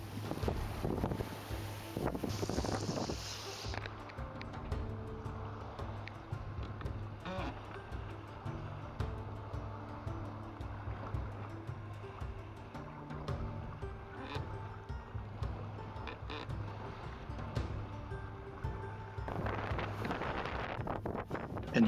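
Wind and water rush around a sailboat on open water off the Dutch coast, with buffeting gusts on the microphone over a steady low hum and splashing waves, continuous and fairly loud throughout.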